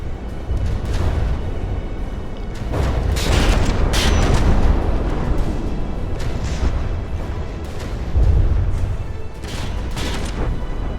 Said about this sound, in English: That torpedo delivered a very nice underside blow.